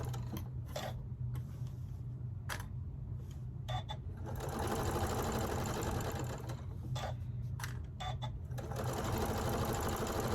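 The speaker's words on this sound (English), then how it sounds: "I'm just going to put my needle down, back stitch, and I'm just going to continue sewing." A sewing machine runs in bursts, back-stitching and then sewing fabric for a neck pillow, with a rapid mechanical needle chatter broken by short pauses and clicks.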